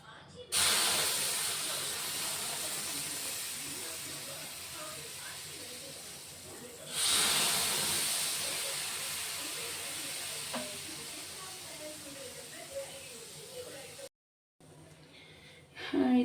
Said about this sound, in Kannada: ಹಂಚಲ್ಲಿ ಈ ಡಿಕಾಕ್ಷನ್ನ ಹಾಕ್ತಾಯಿದ್ದೀನಿ